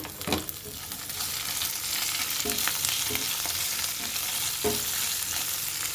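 Onion and green chilli sizzle steadily in hot oil in a pan, a dense, continuous frying hiss with a few soft stirring knocks, close and alone.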